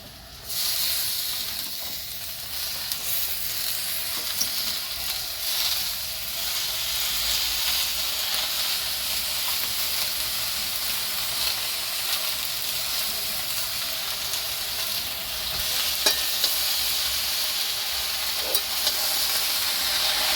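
Spinach leaves stirred through a cooked spice masala in a pan, a continuous loud sizzle and hiss with scraping stirs, steady from start to finish with no voices.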